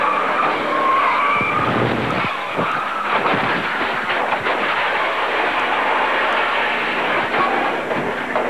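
A race car at Talladega skids loudly, flipping upside down and tearing into the retaining fence during a 1993 crash, a continuous harsh scraping roar that stays dense and close for the whole stretch.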